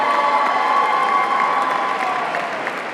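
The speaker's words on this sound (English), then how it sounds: "Can we give another round of applause for Kayla" A gala crowd in New York applauds and cheers together, a sustained roar of clapping mixed with voices that eases off slightly toward the end.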